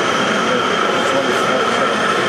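A diesel locomotive idles loudly up close at Thorne Yard in Blyth, a steady, dense engine drone that holds level throughout without any breaks.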